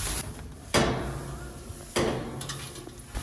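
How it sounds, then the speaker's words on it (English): Two sharp wooden knocks and rattles come from a barn door being latched, each a sudden clack followed by a short decaying rattle, with quieter shuffling between. "go ahead and latch the door for me"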